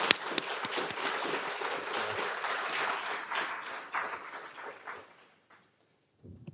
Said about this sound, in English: I hope you'll join me in giving Yuval a warm round of applause